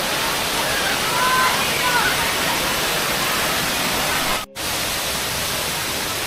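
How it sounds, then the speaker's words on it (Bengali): Turga Falls in Purulia, the district's highest waterfall, roars as a steady broad rush of falling water, loud and close, with faint voices under it and a brief cut near the end. "এইটাই কিন্তু পুরুলিয়ার সবচেয়ে উচ্চতম জলপ্রপাত"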